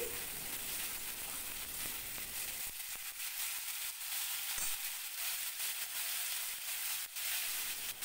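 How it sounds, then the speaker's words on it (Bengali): Cut pumpkin pieces sizzle steadily in a hot oiled pan while being stirred, a continuous close frying hiss with occasional scraping and clatter, no one speaking. "এখন এর মধ্যে আমি এই কাটা কুমড়োগুলো দিয়ে দিলাম। এবার এটাকে একটু ভালো করে নেড়ে চেড়ে নিচ্ছি।"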